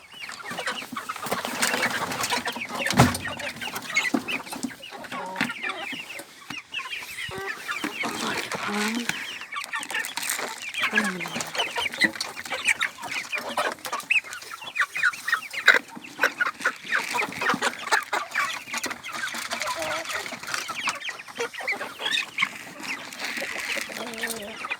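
A flock of chickens clucks busily while being fed soaked wheat, a near, continuous chatter of overlapping calls and scratchy pecking sounds lasting throughout, with a voice speaking briefly among them.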